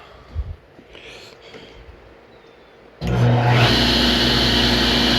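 A Ridgid cast-iron-top table saw is switched on after quiet handling noises and spins up into a loud, steady whine with a broadband roar that continues close by.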